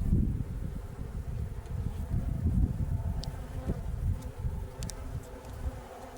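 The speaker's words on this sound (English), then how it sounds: "There's so many bees on there." A large swarm of honey bees buzzing close by, a dense, continuous low drone with no pauses and faint rustling over it.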